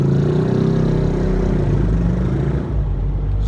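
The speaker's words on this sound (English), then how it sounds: "There's a guy on a little moped in front of me and it's making a lot more noise than it should." A moped engine drones steadily and loudly up close, unusually noisy, a rough mid-pitched hum that holds for a few seconds with no talking.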